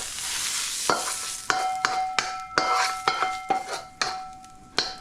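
Garlic cooking in hot oil in a pan for a stir-fry of day-old pasta, a soft steady sizzle broken by sharp utensil scrapes and clinks against the pan.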